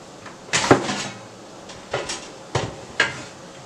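Salmon patties dropped into an air fryer basket at home, a handful of separate clattering knocks and bumps spaced over a few seconds, close and fairly loud with no talking.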